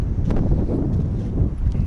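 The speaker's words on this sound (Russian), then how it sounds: "Ветер." Steady, heavy wind buffeting a microphone in spring taiga, a continuous low roar with gusty rumble throughout and no voices.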